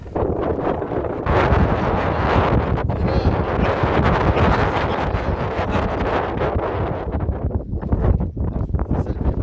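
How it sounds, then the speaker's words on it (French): Strong, cold north wind in Turkey roars continuously across the microphone, dense buffeting gusts with rustling, loud and unbroken for the whole stretch, no voices. "C'est le vent le pire."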